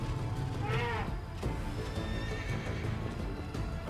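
Plagued horses in the fantasy game Wrath of the Righteous give one clear neigh, with faint hoof clip-clops and thuds of battle continuing beneath at moderate volume.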